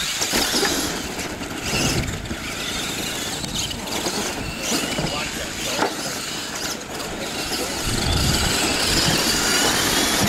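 Two RC trucks race on a crossover track at a points series finale, their electric motors whining and rising and falling as they pass, with track noise and loud surges throughout.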